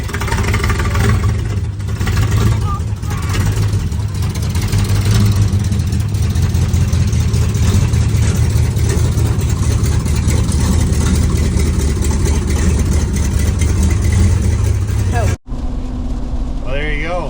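A Chevrolet Malibu race car engine runs loud and close, holding a rough, throbbing idle with revving surges, then cuts out briefly near the end before rumbling again.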